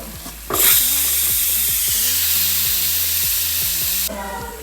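Crushed ginger, garlic and cumin hit hot oil in a pan for a botty curry, a loud sudden sizzle and hiss that holds steady for several seconds, with faint clinks of a spoon stirring underneath, close by.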